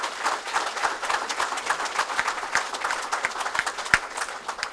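Audience applause at a university athletics event introducing a new athletics director, a dense steady patter of many hands clapping with a few sharper individual claps standing out, fairly close and continuous throughout.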